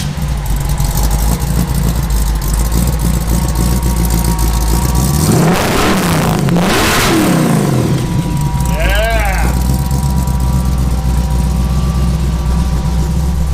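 A loud 1953 Willys Aero Falcon dragster engine idles with a rough, throbbing rumble, revs sharply a couple of times mid-way, then settles back to its heavy idle.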